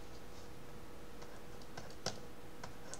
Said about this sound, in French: je tape pi sur la calculatrice